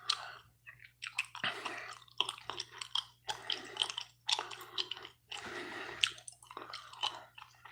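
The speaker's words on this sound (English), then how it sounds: "I'll just chew this gum" Gum being chewed with the mouth close, wet smacking and squishy chomps repeating in a steady rhythm, loud and alone with no talking.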